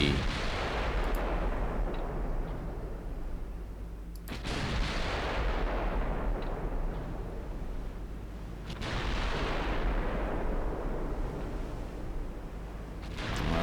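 Battlecruiser guns fire high-explosive shells in a naval strategy game, three heavy booming salvos a few seconds apart, each followed by a long rolling rumble that fades before the next, no talk.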